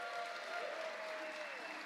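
A quiet audience gives Ricky Bobby another round of applause, a brief, even wash of many hands clapping, heard from a distance.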